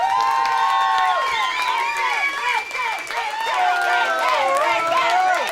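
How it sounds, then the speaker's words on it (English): A crowd at Harrods department store in Knightsbridge, London, cheers and whoops loudly for Rick Parfitt. Many overlapping voices rise and fall together throughout, with little clapping audible. "please give a big round of applause for Rick Parfitt"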